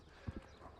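Horse hooves step twice in quick succession, two dull low thuds close by on soft ground, otherwise quiet.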